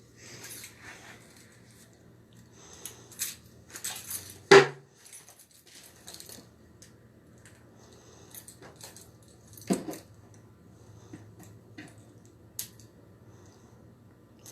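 Keys on a large keychain clink and jangle in scattered bursts, with one sharper clack midway, over a low steady background hum.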